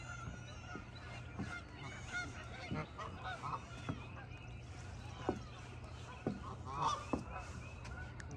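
Geese honking at sunrise outdoors, repeated scattered honks from several birds at moderate distance over a steady low hum, with a person talking in between.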